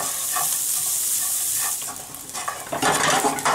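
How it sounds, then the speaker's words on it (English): Meat and shallot sauté in a pan with a steady close sizzle, joined by scraping and stirring sounds and a few clinks of a utensil against the pan. "continue sauteing this meat with the shallot in it and get this shallot nice and browned"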